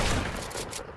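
Rapid gunfire in a video game, a dense fusillade of overlapping shots that stays loud and busy throughout, with no talking.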